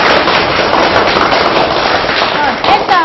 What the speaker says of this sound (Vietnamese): nổ một tràng vào tay nữa để chào đón một tiết học rất tốt nào.